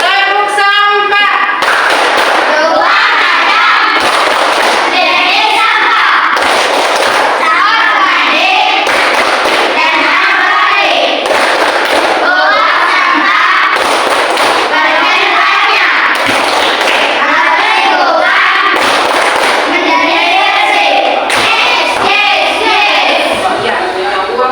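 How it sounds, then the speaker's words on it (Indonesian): Children in a classroom perform the tepuk sampah clapping chant: loud, rhythmic bursts of hand claps repeat in sequence, with many young voices chanting along between and over the beats. "Sekarang kita buat dulu tepuk sampah."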